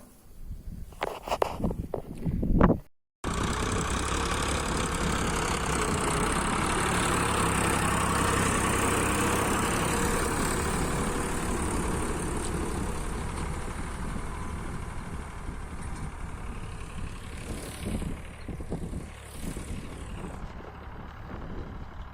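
A farm tractor engine idles steadily at close range, a low continuous rumble running for most of the stretch after a brief pause near the start, with no talking over it.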